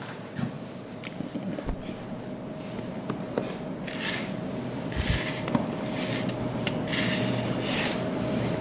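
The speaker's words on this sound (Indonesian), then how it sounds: "Jadi digeser aja pisau tumpul ke sekeliling loyang." A blunt knife scraping around the edge of a pan holding a baked marble cake, a steady close rasping and rubbing that continues throughout, with occasional soft knocks and brief louder scrapes.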